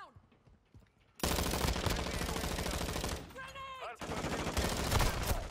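Rapid automatic gunfire from a Rapp H light machine gun in Modern Warfare 2 multiplayer, a loud continuous burst after a quiet start, briefly broken by a short gap and electronic tones before firing resumes.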